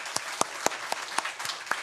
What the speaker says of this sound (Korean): 우리 다시 한번 이 아이들과 우리를 위해서 같이 감사의 박수